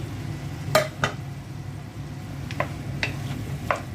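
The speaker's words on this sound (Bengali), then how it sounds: "ভালো করে মশলার সাথে কষিয়ে নিব। বেগুন আলু আর সিমটা কষিয়ে নিলাম।" Flat beans, potato and eggplant frying with spices in a pan, a low continuous sizzle broken by a few sharp scraping clinks of a spatula against the pan, close and moderately quiet.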